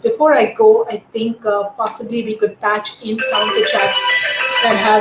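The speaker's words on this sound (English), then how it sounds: "Now, I'm sorry for that phone actually ringing in." A phone rings during a live telecast from home, a bright, continuous ringing that starts partway through and carries on loudly after a stretch of speech.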